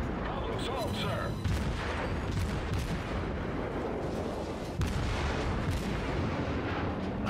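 Naval guns firing in the video game World of Warships, a steady barrage of heavy booming shots and rumbling blasts over a dense battle din, with a commentator talking over it.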